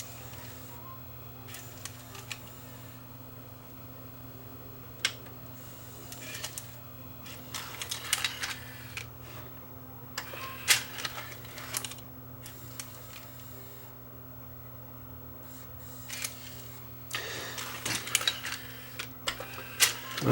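A Tascam DA30 DAT deck with a tape-loading fault running its motor and mechanism, a steady low hum under scattered clicks and clustered mechanical ticking and whirring bursts, close and quiet, without speech.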